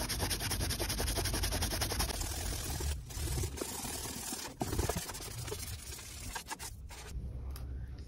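A wet melamine magic sponge rubbing and scrubbing dirt off a wall, giving a steady, close, continuous scraping rub with a few brief pauses and louder strokes.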